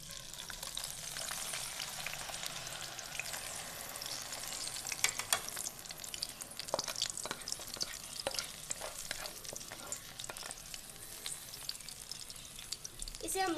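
Spice paste fries in ghee in a kadhai, a quiet steady sizzle with stirring scrapes and clatters growing busier partway through, with no one speaking.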